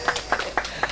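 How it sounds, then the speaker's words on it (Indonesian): Applause for the neighborhood head (Pak RT) after he led the Indonesia Raya anthem at a Sundanese religious gathering; a few quick, evenly spaced hand claps, moderately close. "Tepuk tangan untuk Pak RT yang mimpin lagu Indonesia Raya"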